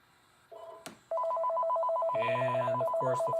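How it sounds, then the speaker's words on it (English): A telephone ringing in a jewelry workshop, starting with a brief tone and a click, then a steady, loud electronic ring pattern with a layered buzzy warble beneath it. "And of course the phone's got a ring."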